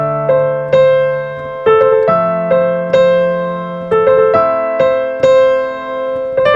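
Piano melody from a song, played alone as a series of clear, moderately loud struck chords and notes in a steady, lilting rhythm with sustained ringing between attacks.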